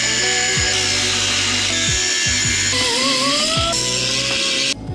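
A power tool enlarges a small hole in a Mazda Miata chassis during a coilover install, grinding loudly and steadily with several sharp pitch drops as the bit bites into the metal, then cuts off abruptly at the end.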